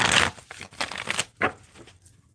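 Tarot cards are shuffled close up, giving a series of dry papery riffles and soft slaps in uneven bursts. The bursts fade toward the end.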